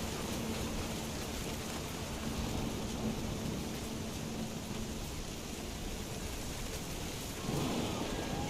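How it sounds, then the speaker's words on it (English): Steady rain pours with a low rolling rumble of thunder throughout, a dense even wash of storm noise with no voices, in the video game What Remains of Edith Finch. "The thunder sounded much too close and full of angry power."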